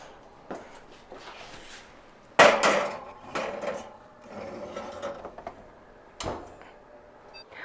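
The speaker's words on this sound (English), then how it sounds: "I'm just gonna pop this into the oven" Banana bread pan going into a home oven, with a sharp metallic clatter of the pan on the rack, a rattle and a thud of the oven door among quieter kitchen handling noises, close by.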